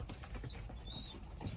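Young racing pigeons in a loft coo and rustle nearby, with soft wing flaps and faint chirps over a few seconds.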